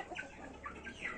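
A hen with no rooster in the flock gives short clucking, crow-like calls, several quick bursts in a row, heard faintly and close without other voices.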